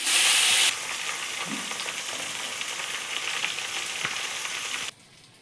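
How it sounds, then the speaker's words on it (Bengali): Prawns frying in hot oil for a coconut-milk curry, a loud burst of spattering at first, then a steady close sizzle with a few utensil taps before it cuts off near the end. "এবার এই গরম তেলের মধ্যে আমি মাছগুলোকে হালকা করে ভেজে নেব"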